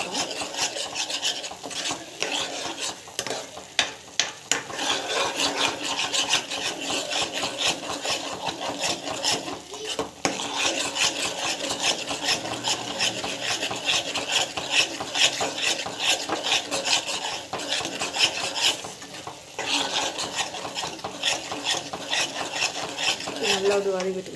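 A utensil scrapes and stirs spices sautéing in a pan for kara kuzhambu curry, a steady gritty rasping with a faint sizzle underneath, loud and close throughout.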